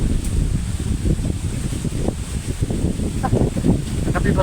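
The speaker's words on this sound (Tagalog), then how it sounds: "Sobrang lakas ng hangin." Steady, heavy typhoon wind roars and buffets the microphone throughout, with rustling and a few faint voices in the background.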